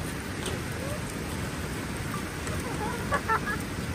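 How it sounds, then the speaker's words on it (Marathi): Rain falls on a beach in Goa at night as a steady, soft wash of patter, with faint voices and a few brief chirps in the background. "तर काही बीचवर आहे ना पाऊस चालू झालेला आहे."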